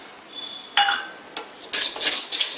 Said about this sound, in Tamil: மறுபடியும் இந்த வானலியில் உளுத்தம் பருப்பு போடுறேன்